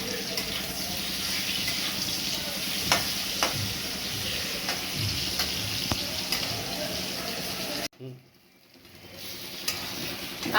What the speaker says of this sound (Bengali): কাঁকরোল ভেজে নিয়েছি